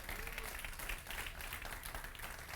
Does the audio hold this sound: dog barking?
no